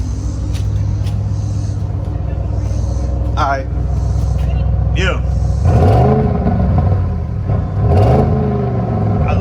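An Audi RS7 idles with a deep rumble and then is blipped several times, each rev rising and falling in a throaty, turbocharged tone, while people talk nearby.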